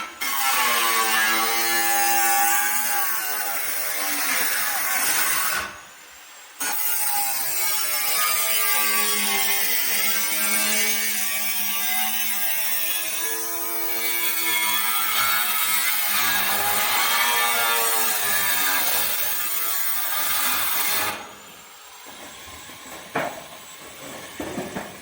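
Coconut tree wood being sawn, a continuous rasping run of saw strokes, loud and close, that keeps going for most of the time with only a couple of brief pauses.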